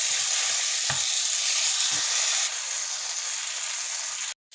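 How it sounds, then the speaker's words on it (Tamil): Chopped tomatoes sautéing with onions in a pan for paneer butter masala, a loud continuous sizzle with a few low knocks of stirring, then a sudden cutoff near the end. "தக்காளியும் கொஞ்சம் நேரம் நல்லா வதங்கட்டும்."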